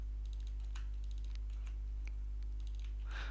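Keys clatter on a computer keyboard as code is typed, quick irregular bursts of light clicks close by over a steady low electrical hum, with a louder cluster of keystrokes at the end and no speech.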